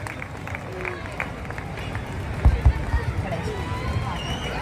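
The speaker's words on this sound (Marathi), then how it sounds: "जोरात टाळ्या देऊया" Audience applause at a Maha Expo event in Shrirampur, heard as a steady crowd clatter of claps with a few louder bursts midway, mixed with general crowd babble.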